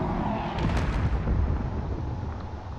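A rumbling barrage of missile explosions striking ship shields in a space battle game, dense overlapping booms and bursts rolling continuously at moderate loudness with no clear gaps.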